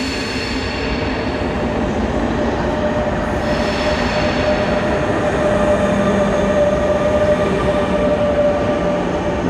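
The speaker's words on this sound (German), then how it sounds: "Ja, ein IC, nicht ICE, sondern ein IC." IC intercity train passing close by in Berlin, a steady loud rumble of wheels on rails with a faint squeal, continuous throughout with no voices.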